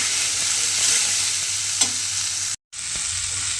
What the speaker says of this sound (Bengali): রেখে দিয়ে এইভাবে কিন্তু একটু ভেজে নিতে হবে